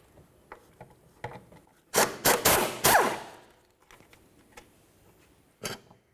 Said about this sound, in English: we need to remove our 2 upper mounting nuts